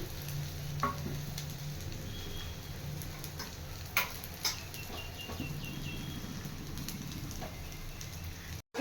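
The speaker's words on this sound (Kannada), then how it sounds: "ಸ್ವಲ್ಪ ಮೇಲ್ಗಡೆ ಎಣ್ಣೆ ಹಾಕೋತಾ ಇದ್ದೀನಿ" A masala rice roti (thalipattu) fries on a pan after oil is drizzled on top. The sizzle is faint, steady and low, with a few small ticks and pops.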